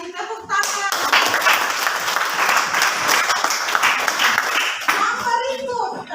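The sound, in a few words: applause in a classroom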